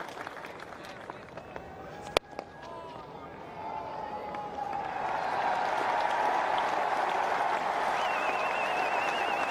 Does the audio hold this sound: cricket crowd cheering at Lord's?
yes